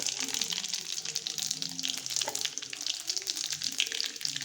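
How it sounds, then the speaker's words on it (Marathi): Mustard seeds and cumin crackle and sizzle in hot oil in a kadhai on a gas stove, a steady, bright hiss with fine popping that continues throughout at moderate volume. "मोहरी, जिरं टाकून घेऊया."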